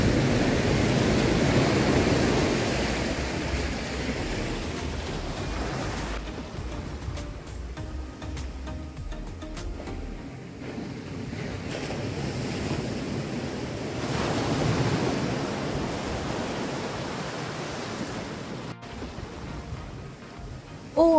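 Surf washing onto a rocky beach at Udupi on India's coast, a steady broadband roar that swells and eases, loudest at the start and again midway, with wind buffeting the microphone.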